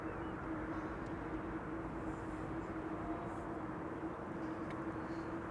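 Airliner rolling out on the runway after landing at Amsterdam Schiphol without reverse thrust, a steady distant engine rumble and roar that stays even throughout.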